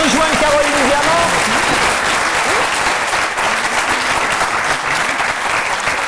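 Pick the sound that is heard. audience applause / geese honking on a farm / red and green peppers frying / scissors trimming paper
audience applause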